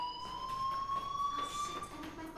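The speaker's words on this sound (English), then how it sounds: "do you hear that fire alarm? That means you should be outside." A fire alarm in the video game Life Is Strange rings steadily throughout, a continuous high electronic tone with a faint pulsing texture, heard alone without talking.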